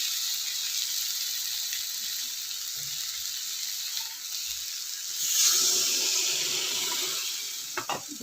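Spinach leaves are washed in water, giving a steady close hiss of running water with soft splashing that swells briefly toward the end, and no one talking.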